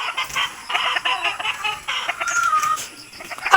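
Chicken clucks and squawks in short irregular bursts, fairly close, with other birds chirping faintly in the background.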